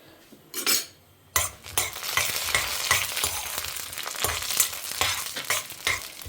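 Spices being fried in sesame oil in a pan for a Tamil Nadu hotel-style vegetarian meal, giving a steady crackling sizzle with occasional clinks and scrapes of a utensil stirring, close and fairly loud, with no voices.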